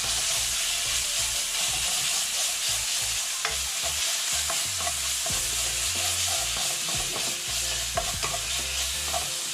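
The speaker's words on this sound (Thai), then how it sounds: "น้ำพริกลงไปล้วนครับ ผัดให้หอม" Chili paste stir-fried on its own in a pan, with a steady close sizzle and hiss running throughout and repeated scraping strokes of a spatula against the pan.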